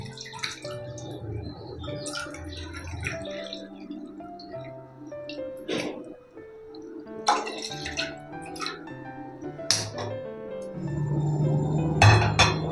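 Water measured out for homemade sweet yogurt, two cups totalling 500 ml, poured with drips and splashes alongside light clinks of a glass or cup, close and continuous, with a louder trickling fill near the end.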